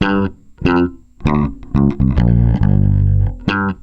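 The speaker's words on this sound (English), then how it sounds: "there is like a little more distortion, high-end harmonic content" Punchy, gritty distorted bass guitar notes played in short bursts, with one longer sustained note ringing out near the end.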